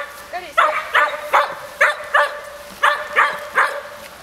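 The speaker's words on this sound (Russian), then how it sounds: "Не, прикольная собака на самом деле." A collie barks in a steady series of about eight sharp, loud barks spaced roughly half a second apart, each one close to the microphone, with a faint tone under them and no talking.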